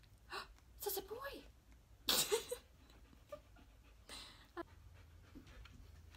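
A dog pants up close in quick, uneven bursts of breath, with a sneeze-like snort among them and quiet pauses in between.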